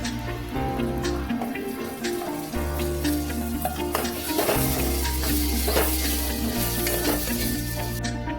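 Masala paste fries in a pan as fresh green peas go in for an aloo kurma, giving a soft sizzle with stirring scrapes over steady music, no talking.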